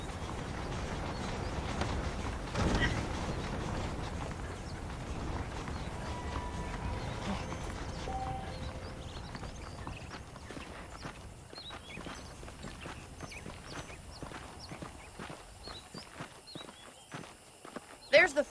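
Horse hooves clop steadily along in the Red Dead Redemption western game as the rider walks a saddled mount, a continuous rhythmic patter running under game music and ambience, growing sparser and sharper toward the end.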